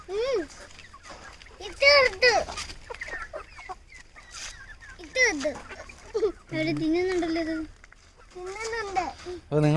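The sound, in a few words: chickens clucking while being fed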